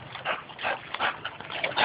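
A dog whimpers and yips beside a backyard swimming pool, several short, fairly close high-pitched whines in quick succession with no talk over them.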